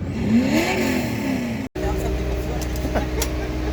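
A Formula Drift car at the St. Louis round revving hard with a missed gear shift, engine pitch climbing and falling in a loud wail, then a sudden cut and a steady rough drone with someone talking over it.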